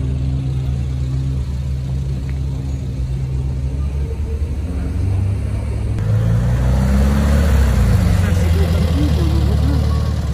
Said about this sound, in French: il y a beaucoup de voitures aujourd'hui